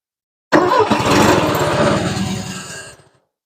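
An old Bobcat engine cranks over in one sustained, loud burst of rapid rhythmic chugging that runs for a few seconds without catching, then cuts off abruptly into silence.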